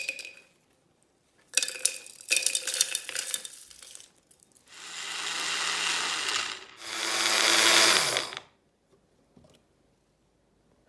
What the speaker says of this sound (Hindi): इन सब स्पाइस को लो हीट पे 3 से 4 मिनट पका लिया। इनको ठंडा करके ग्राइंड कर लेते हैं।